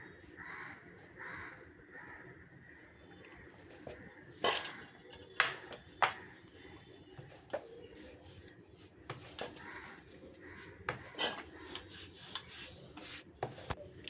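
Flour dough balls rolled flat with a rolling pin on a board for nimki, a soft repeated rubbing and rasping with occasional sharp knocks of the pin, close and fairly quiet.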